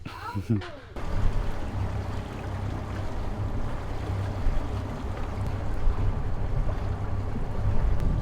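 A sailing yacht motors away from a fuel dock near Orhaniye, Turkey, its low engine drone steady beneath wind and water noise, with people talking over it.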